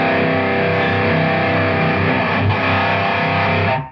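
Electric guitar through a Joyo Zombie distortion pedal set to metal mode plays a loud, heavily distorted sustained chord that rings for several seconds and then cuts off abruptly.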